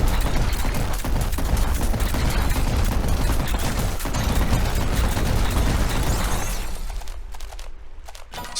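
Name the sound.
shotgun gunfire in video game RICE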